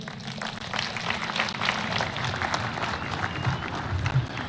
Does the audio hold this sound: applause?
yes